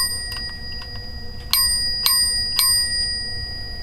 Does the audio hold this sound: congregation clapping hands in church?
no